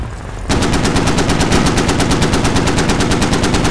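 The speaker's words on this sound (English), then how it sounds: "Is that gunfire from the mosque?" Sudden burst of rapid automatic gunfire from a mosque in the video game Squad after a brief quiet start, sustained loud and evenly spaced shots continuing to the end.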